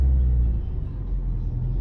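A car pulling away on a hill as the clutch is released: a steady low engine rumble close by, loud at first and then easing slightly as it moves off.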